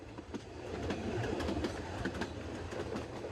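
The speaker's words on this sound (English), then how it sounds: "the train crosses Mallorca's flat central plain and through fields of almond" The Soller Railway train runs across Mallorca's flat central plain, wheels clicking steadily over rail joints beneath a continuous rumbling carriage roar, heard from on board and fairly even throughout, with no speech.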